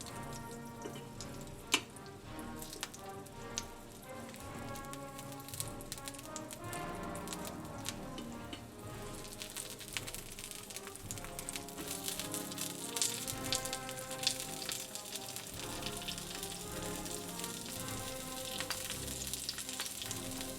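Sausages (bangers) fry in a pan for toad in the hole, giving a continuous soft sizzle with fine crackles and pops that grows busier partway through, quiet and heard alone with no talking.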